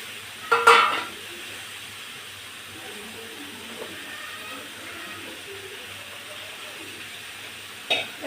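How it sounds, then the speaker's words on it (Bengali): Chopped greens hit a kadai with a brief clatter, then fry with a faint, steady sizzle and occasional stirring scrapes, ending with another short metallic knock near the close. "এবার আমি শাকগুলো কড়াইয়ের ভিতরে দিয়ে দেব।"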